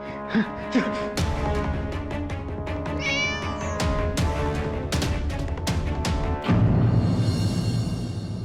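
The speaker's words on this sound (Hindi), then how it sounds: "ये बिल्ली मुझे भी मार डालेगी।" A house cat meows repeatedly, close and loud, its cries rising and falling against background music and other sounds that play throughout.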